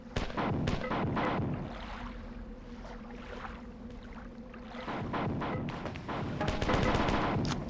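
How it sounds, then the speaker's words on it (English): Pistol gunfire in a video game sounds as clusters of sharp, close shots in quick succession, then fades into a quieter stretch of game ambience before more shots build back up. "You can't see where you're going when you're shooting the pistol."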